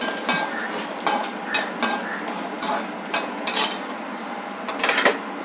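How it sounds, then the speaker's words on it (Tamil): Coconut pieces and other ingredients for ground-masala capsicum sambar being dry-roasted in a pan, with repeated scraping and clinking of a spoon against the metal over a steady low background, close and moderately loud. "இப்போ இதை வறுத்துக்கலாம்."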